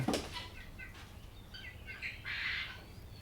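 Pigeons at a pigeon farm aviary in Jamalpur, Bangladesh, give soft scattered calls and chirps, with a brief burst of wing flapping at the start, all faint and somewhat distant.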